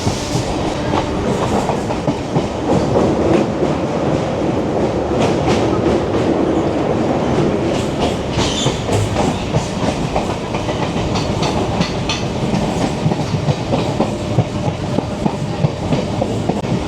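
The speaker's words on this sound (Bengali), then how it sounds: "ট্রেনটা এখন পাস করবে দ্বিতীয় হুগলি ব্রিজের তলা দিয়ে" A Kolkata Circular Rail local train runs along the tracks toward the Second Hooghly Bridge, with a loud, continuous rumble and rhythmic clickety-clack of wheels heard close from inside the moving train.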